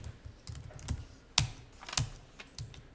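Computer keyboard typing during accounting data entry, with scattered soft keystrokes and a few sharper, louder clicks spaced irregularly, close and alone without speech.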